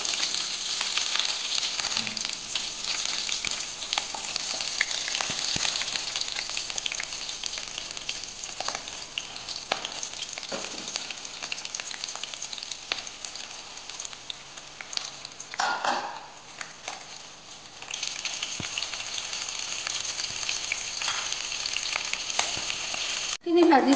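Potatoes, onion and green chillies frying in ghee and oil make a steady, loud sizzle throughout, with brief stirring scrapes and a short dip in the hiss midway.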